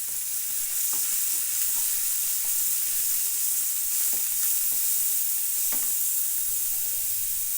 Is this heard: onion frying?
yes